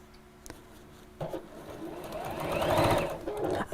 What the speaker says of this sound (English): I think we're sewing.